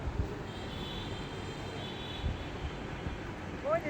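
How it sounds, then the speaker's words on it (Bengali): An engine-powered passenger boat chugs along a river from a ferry ghat, a steady low drone filling the background with a faint tonal whine above it. "এটা দিয়ে আমরা যাব, ইঞ্জিন চালিত নৌকা।"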